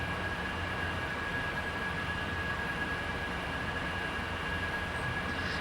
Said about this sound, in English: here we are driving, right, with our aircraft